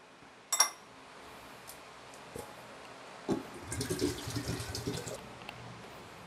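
Tender coconut water poured into a container in a home kitchen: a few soft knocks, then a gentle splashing trickle of liquid in the second half, quiet and close.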